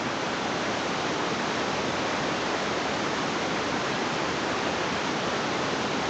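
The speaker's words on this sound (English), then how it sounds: "waterfall with pool." Continuous roar of cascading water at Lagoon Creek waterfall and pool near Bilpin in the Blue Mountains, even and loud throughout, like a waterfall heard up close.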